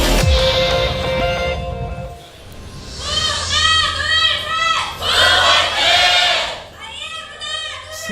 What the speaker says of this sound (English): Big cheers from the IM crowd today.